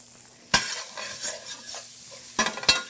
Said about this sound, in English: So it's all been brunoised and it all goes in the pan.